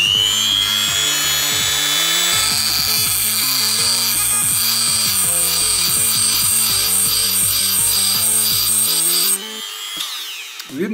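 A power tool cutter grinds into the faces of a hardened steel wrench, giving a loud, steady whining grind with shifting rhythmic strokes as it bites the edge, then stopping abruptly near the end with no talking.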